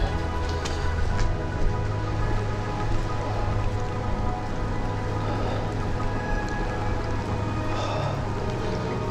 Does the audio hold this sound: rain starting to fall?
yes